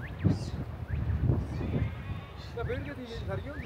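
Goats bleat in a Kashmir village, several wavering calls overlapping amid outdoor bustle and footsteps, fairly close, with people talking nearby.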